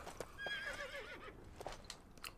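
A horse in the Lego Lord of the Rings video game gives a short, clear whinny, followed by a few sharp clip-clop hoof taps.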